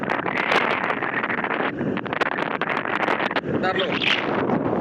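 Strong wind blows on a pier, a loud, constant buffeting roar across the microphone with gusty surges, while a person briefly speaks under it.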